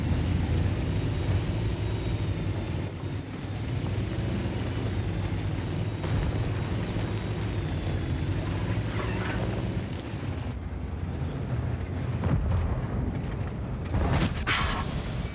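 Shell impact in a tank video game, a WNX Coccodrillo fighting hull down on the Redshire map, heard as a dull distant boom over steady engine and battle rumble, with a brief sharper crack near the end.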